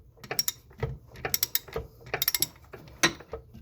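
A ratchet clicks in quick irregular bursts as it turns a bolt to draw the water pump shaft out of an Arctic Cat ZRT Thundercat snowmobile engine, close and crisp with short pauses between strokes.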